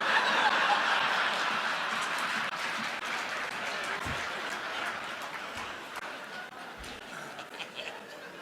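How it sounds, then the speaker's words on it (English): Sustained applause from an audience at a stand-up comedy show, a dense wash of clapping that slowly fades, mixed with scattered chuckles and laughter. "Now, you clap"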